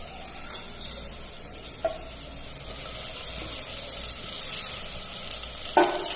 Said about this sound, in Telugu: ఈ మటన్ అయితే ఆయిల్లో బాగా బాయిల్ అవ్వనివ్వాలి.